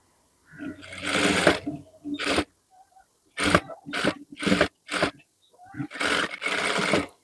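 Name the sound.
sewing machine stitching a sleeping mask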